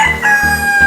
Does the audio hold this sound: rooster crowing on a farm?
yes